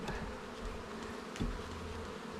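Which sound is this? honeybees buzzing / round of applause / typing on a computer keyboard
honeybees buzzing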